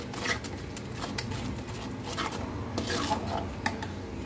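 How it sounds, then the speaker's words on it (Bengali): A spoon works blended tomatoes through a sieve, giving steady close rubbing and rasping scrapes with occasional light metallic clinks. It is fairly quiet and has no talk over it. "আমি সবগুলো ব্লেন্ড করা টমেটো ঠিক এইভাবে ছেঁকে দিলাম।"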